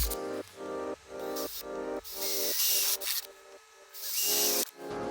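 Power drill boring holes with a pilot bit while attaching scissor jacks to a tiny home trailer, short whining bursts that start and stop several times, some with a gritty, hissing cutting texture, close and fairly loud.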